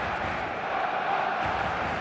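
A stadium crowd in the eFootball game gives off a steady, dense roar of many voices that builds toward a crescendo. It is loud and continuous with no breaks.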